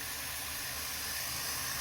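Steam hisses steadily and loudly from a pressure cooker boiling dried beans over medium heat, a continuous bright rushing noise with no pauses.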